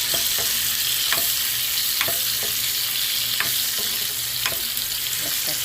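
Chopped onion and cumin sizzle steadily in hot oil for Chittagong-style tomato bharta, a continuous loud frying hiss broken by periodic scraping stirs of a spatula, with no voices.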